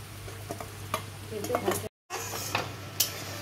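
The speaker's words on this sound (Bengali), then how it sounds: "ভেজে রাখা চিংড়ি মাছগুলো মা দিয়ে দিল।" Fried prawns dropped into boiling water in a pan for a Bengali chingri bati posto, giving soft sizzling and bubbling with light clinks of a utensil, one brief dropout partway through.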